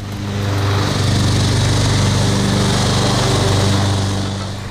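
A Husqvarna riding lawn mower tractor engine runs steadily and loud, a close droning hum with a buzzing high whine that swells in, holds and eases slightly toward the end, with no talk.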